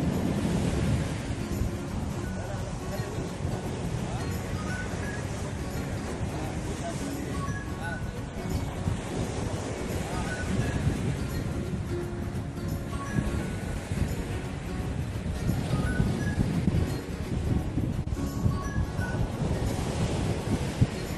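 Waves and wind at the Dead Sea shore make a steady, loud roar of surf and wind buffeting the microphone, with people talking faintly underneath throughout.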